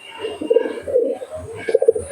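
Teddy pigeons at a bird sale coo close by in soft, low, repeated phrases, several overlapping calls rising and falling over a quiet background.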